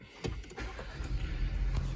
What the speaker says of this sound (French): Donc démarrage du bouton start ici.